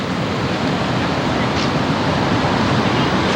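Water fountains in a Paris roundabout spray continuously, a loud, even broadband rush of falling water with no break, heard alone without voices.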